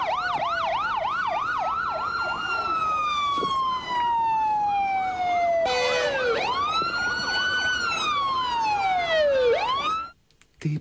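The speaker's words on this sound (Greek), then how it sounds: "Ήρθε η πυροσβεστική." A fire engine arrives with its siren wailing close and loud, rapid yelping sweeps giving way to long rising and falling wails, then cutting off abruptly near the end.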